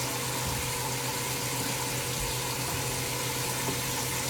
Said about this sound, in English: Put some water in this.